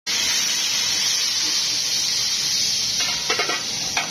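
Chopped onions sizzle and fry in hot oil for chicken pulao, a loud, continuous close-up hiss, with a few stirring clinks near the end.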